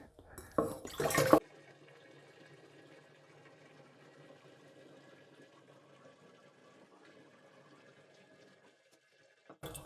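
Juice being poured from a gallon jug into a glass carboy for homebrewed hard cider, opening with a brief loud glugging burst, then a long quiet steady trickle of liquid filling the vessel.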